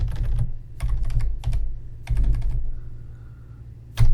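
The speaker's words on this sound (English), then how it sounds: "random key press." A computer keyboard is struck in several quick bursts of clattering key presses, separated by short pauses, close by and with no talking.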